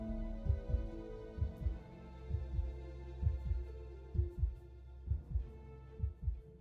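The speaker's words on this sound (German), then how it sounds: "Levi hört das Herzschlagen nicht" Steady heartbeat in the video game Immortality, paired thumps repeating at a regular pace over a low droning hum, loud and close with no talking.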